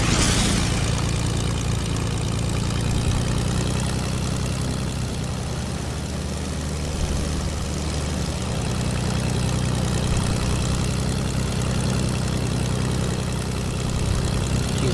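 Propeller plane engine droning steadily in flight in a multiplayer video game, a loud continuous low hum with broadband roar throughout, no talk.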